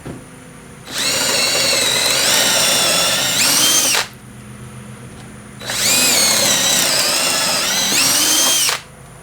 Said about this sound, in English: you put the wood in here, clamp it down, and then you go ahead and drill your piece